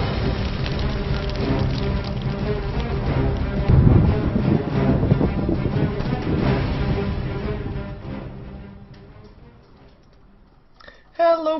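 Heavy rain falls steadily outside a house, a dense, continuous wash of drumming drops that holds loud for several seconds before easing off, with a brief louder burst at the very end.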